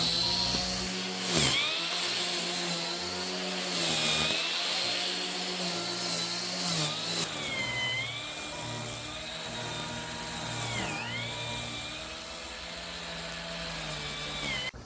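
A metal-bladed lawn trimmer cuts grass across a house yard, its engine whining steadily at close range with pitch dips as the blade bites into the turf, continuous throughout with no talk.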